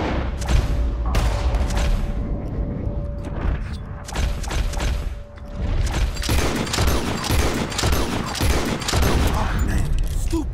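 Rapid gunshots fired at birds in the video game Red Dead Redemption 2, a dense barrage of sharp cracks and thuds with a steady hum underneath, briefly easing off midway before resuming.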